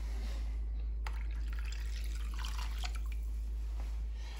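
White wine and fish stock pour into a pan, giving a soft trickling and splashing with a few drips over a steady low hum. No one speaks.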